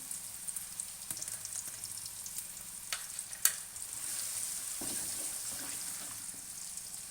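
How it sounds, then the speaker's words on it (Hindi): Drumstick radishes hit oil already holding turmeric, giving a soft, steady sizzle and crackle, with a few sharp clatters and splashes near the middle before the frying hiss settles into an even simmer. "यहाँ पे अब मैं इसी तेल में डाल रही हूँ सुहांजली की जो मूलियाँ थी।"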